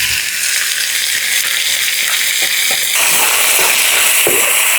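Chopped onion frying in a pan for an empanada filling gives off a loud, continuous sizzle and crackle, close by, with faint stirring scrapes underneath and no voices.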